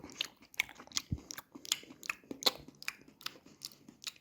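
Crunchy bites and chewing on a small cherry tomato, close and fairly quiet, a series of short crisp bursts with mouth sounds and no talk.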